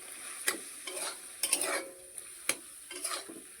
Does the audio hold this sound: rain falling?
no